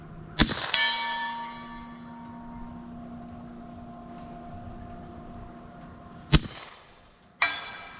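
Rifle bullets from an FN 545T striking a steel target 200 yards away, sharp metallic clangs with long ringing tails, one early hit followed by two more near the end, fairly loud across open space.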